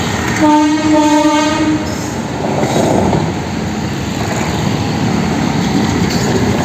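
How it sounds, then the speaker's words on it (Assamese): A train passes close by with a loud rumble and clatter of wheels, a brief horn blast sounding near the start. "চাওক ৰেল যাই আছে গাইছ, অ' ৰেল চাওক।"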